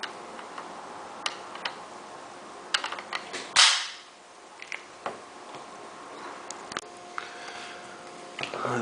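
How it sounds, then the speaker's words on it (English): A BRNO ZH 301 shotgun opens with a few sharp metallic clicks, then one louder snap of the breech sliding back, followed by faint scattered ticks, close up and without talk. "You see, the breech actually moves back when the gun is opening."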